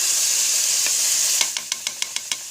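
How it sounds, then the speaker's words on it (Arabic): Meat and chopped ingredients frying in a pan for a spiced meat stew, a loud close steady sizzle with hissing steam, joined near the end by a series of light regular scraping taps from stirring. "خليها تتقلى شويه"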